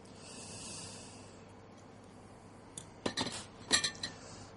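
A bowl and utensils are handled while chopped onion and herbs such as parsley and coriander go in, giving a soft rustle followed by a cluster of light clinks and taps.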